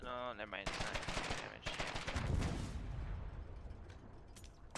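Rapid small arms fire rattling against a tank in the war video game Foxhole, loud dense bursts of automatic shots with a deep rumble underneath and voices mixed in.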